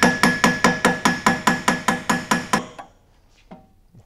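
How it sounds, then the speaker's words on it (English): A metal socket is hammered onto the pulley nut of a classic VW Beetle, giving about a dozen sharp, evenly spaced strikes over two and a half seconds before it falls quiet, with one faint knock near the end. "you can use your socket that you're going to use to tighten up your nut and kind of hammer it on there"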